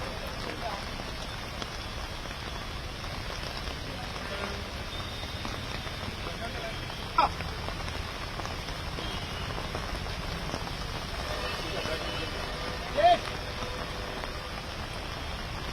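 Heavy rain and wind in Palakkad make a steady, dense hiss of pouring water that continues unbroken throughout, with a couple of brief louder knocks.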